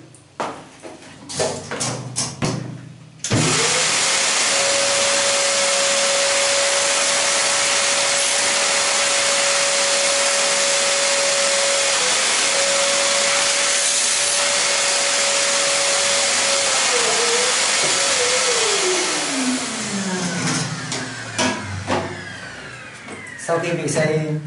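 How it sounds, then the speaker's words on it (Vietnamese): A vacuum cleaner starts abruptly and drones at a loud, steady pitch while cleaning electrical equipment during light-current system maintenance, then winds down near the end, with brief handling noises before and after. "Và tiếp tục chúng ta sẽ dùng máy hút bụi để hút."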